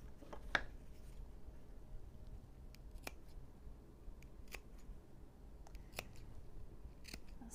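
Scissors snip small V notches into a curved fabric seam, a series of quiet, sharp, close cuts spaced irregularly over a faint background.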